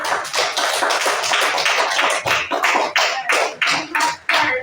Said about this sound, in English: Let's give group three a round of applause.